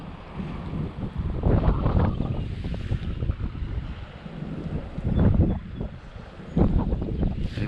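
High, fast-flowing Grand River floodwater rushes in a continuous broadband roar, with gusts of wind buffeting the microphone and surging in loudness.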